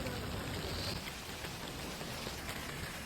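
Heavy rain pours steadily in Al Ain, a dense, constant hiss of falling water with no voices.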